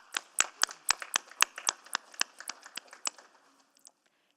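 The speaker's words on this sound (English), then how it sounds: "And we can give these folks a round of applause." A small group claps in a council chamber at City Hall during an executive committee meeting, about fifteen crisp, distinct handclaps in quick succession that thin out and fade to silence.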